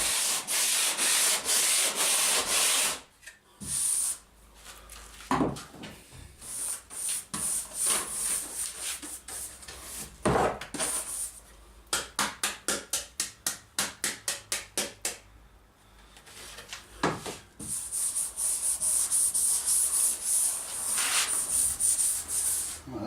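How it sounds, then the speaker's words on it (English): 40 grit sandpaper taped to a plywood block rasps across a surface in long strokes, then a run of quick short back-and-forth scrubs, close and coarse with brief pauses between passes. "I just put some double-sided tape and some of this 40 grit off of the roll on it and give it a go."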